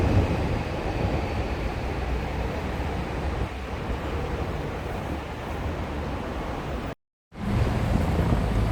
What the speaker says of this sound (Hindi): ये देखें, ये ट्रेनें हैं